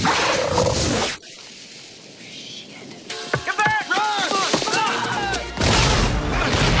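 A pipe bomb goes off in the creature film Tremors, opening with a loud broadband blast, then rumbling and shrieking creature cries with dramatic music, before a second heavy burst closes it out.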